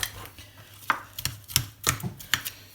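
A fork mashes food mixed with nutritional yeast and a squirt of lemon, giving a run of irregular soft thuds and clinks against a bowl, near and close, with no talk.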